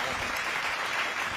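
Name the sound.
audience applause at poetry recital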